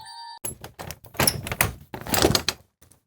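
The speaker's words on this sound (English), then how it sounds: "now it's time to go through the door" A door on a tabletop Eons of Battle set creaks and thumps open in a series of close knocks and rattles, following a brief electronic tone.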